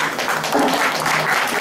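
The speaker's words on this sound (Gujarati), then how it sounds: "તાળી પાડો." A brief burst of applause from a group at a children's pathshala class in Pune, steady dense clapping throughout.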